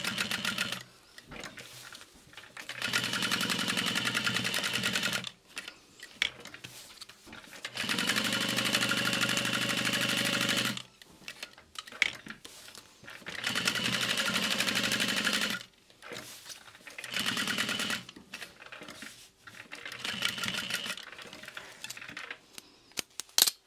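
A sewing machine stitches a waterproof canvas backpack in four long, steady bursts, each running several seconds and separated by brief pauses with small handling noises.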